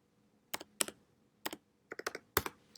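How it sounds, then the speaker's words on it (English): Login numbers typed on a computer keyboard: a handful of sharp, separate key clicks, first spaced apart and then in a quicker cluster, close and fairly quiet with no talking. "So this is where students will type in their top and bottom numbers. So I will type in mine for today"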